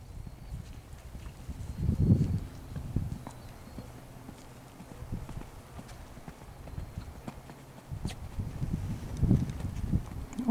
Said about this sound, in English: Now canter the line.